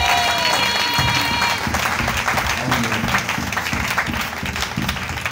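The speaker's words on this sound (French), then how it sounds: "Can somebody clap?" A church congregation claps steadily together in a busy, reverberant hall, with a lively rhythmic patter that continues throughout, mixed with crowd voices and music.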